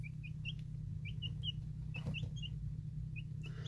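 Young chickens give short, high chirps and peeps in scattered bursts over a low, steady hum, with no voices present.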